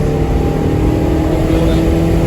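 A Honda Civic DX with a K20Z3 engine swap and a manual conversion, punched hard on fresh tires, its engine roaring loud and steady with a dense, sustained drone throughout.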